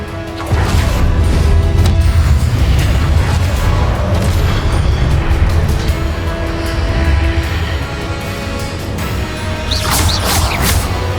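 Confringo blasting spells go off in Hogwarts Legacy, producing loud, continuous booming explosions and crashing impacts that rumble densely throughout, with no talk over them.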